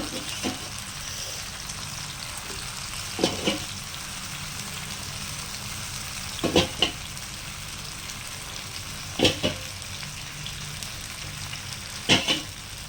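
A whole pomfret fish frying on a tawa, a constant low sizzle of hot oil throughout, broken every few seconds by brief louder crackling bursts, close and alone without talk.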